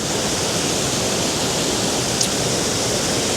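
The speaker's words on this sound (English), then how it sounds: "And there is your waterfall." A limestone waterfall in South Wales, swollen after a storm, gives a steady, close, loud broadband rush of falling water with no breaks and no voices.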